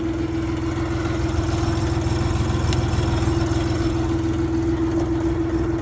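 A Dongfeng 244 DG2 tractor engine idles loudly and steadily up close, a constant low throbbing chug with a droning hum throughout.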